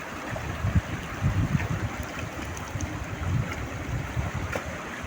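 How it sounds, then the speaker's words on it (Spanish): Clear stream water runs through a forest, a continuous close rushing and gurgling flow with uneven surges, alone without voices. "el agua, cómo corre el agua, está hermoso"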